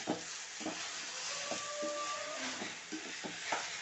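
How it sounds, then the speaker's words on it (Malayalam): Oil spooned into a pan for an okra fry, giving a steady sizzling hiss with a few soft clinks and stirring scrapes, close and moderately loud with no talk. "കുറച്ച് എണ്ണ ഒഴിക്കുന്നുണ്ട്"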